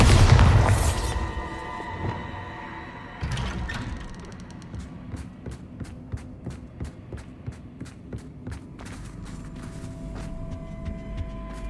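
A Bombarda spell explosion in the Hogwarts Legacy game lands as a loud, deep boom at the start and fades out. Lighter thuds and clicks follow, including a sharper hit a few seconds later, then a string of footsteps.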